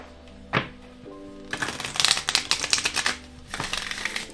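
Oracle cards are shuffled by hand, close up: a single sharp tap, then a quick riffling run of papery flutters, a short pause and another burst, with no one speaking.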